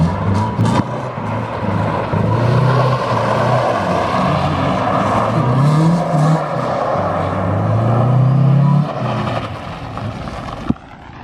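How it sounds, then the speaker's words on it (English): A cheap Mazda Miata accelerates hard and drifts at night, its engine roaring loud and close with rising revs that surge and fall repeatedly before easing off at the end. "now we can floor it without pissing the neighbors off"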